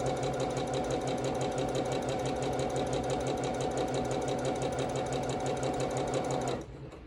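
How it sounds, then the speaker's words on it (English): A sewing machine stitches corner to corner down a half square triangle quilt block, running in a steady, fast, continuous whir up close before stopping abruptly near the end. "Just sew it right down the middle,"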